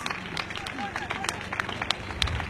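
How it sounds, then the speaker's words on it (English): A crowd claps in scattered, uneven bursts with murmuring voices and chatter underneath. "Let's clap for her as she comes."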